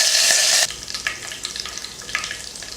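Curry leaves sputter in hot oil for a rasam tempering, opening with a loud burst of sizzling that drops to a lower crackle with scattered pops and stirring clinks, close up and without voices.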